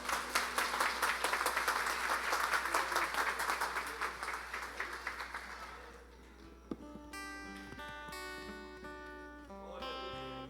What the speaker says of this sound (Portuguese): Eu gostaria que toda a igreja dessemos uma salva de palmas bem calorosa pelo nosso pastor,